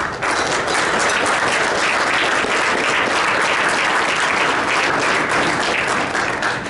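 Steady, dense audience applause at a Rotary club meeting, loud and sustained throughout without pause, with no speech over it.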